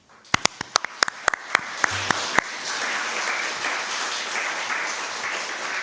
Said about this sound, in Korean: 일어설 때 큰 박수로 축복합시다